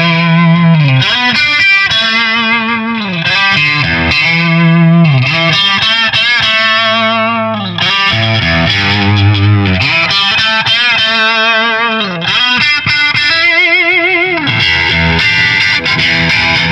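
An overdriven electric guitar plays a riff with a gritty, distorted tone, loud and continuous, with repeating chord stabs and bending lead phrases for about seventeen seconds and no talking.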